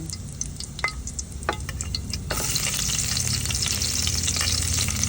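Ginger and garlic sautéing in hot oil in a pan: quieter sizzling with a few stirring taps, then a sudden louder, fuller sizzle as the garlic goes in, steady and close.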